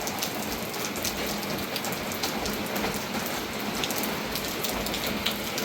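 Steady rain pours down in a forest in a dense, continuous hiss, with scattered drops pattering on a hard surface throughout.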